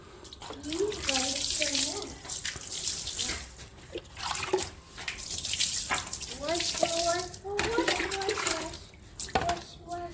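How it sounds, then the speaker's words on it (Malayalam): Water splashes and pours in bursts against a Royal Enfield Bullet motorcycle being washed to remove rust, stopping and starting, while a person talks intermittently over it. "അപ്പോൾ നമ്മൾ ആദ്യം ഒരു ഇച്ചിരി വെള്ളം ഒഴിച്ച് വരണം"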